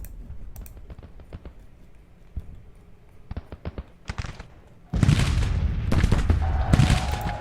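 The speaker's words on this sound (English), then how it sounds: "We need consistent volleys to make this worth it." Musket volleys from Civil War infantry lines in the Grand Tactician strategy game, heard first as scattered sharp cracks, then as a dense, loud, sustained crackle of massed fire in the second half.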